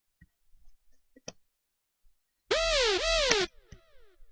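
A bright, buzzy synth lead plays a short swooping two-note phrase with pitch bends for about a second, preceded and followed by faint clicks and quiet tails.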